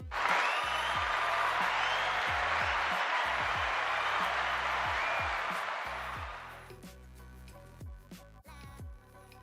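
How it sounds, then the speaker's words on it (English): Arena crowd at a WWE Raw wrestling show cheering and applauding in a loud, dense roar that holds steady for several seconds, then fades out as music-like tones take over. "And they cheer."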